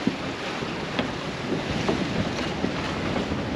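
Steady wind rushing across a sailboat under sail off Santa Cruz Island in a gale, a constant broadband roar with occasional soft gusts and water wash, close to the microphone and uninterrupted, with no talking.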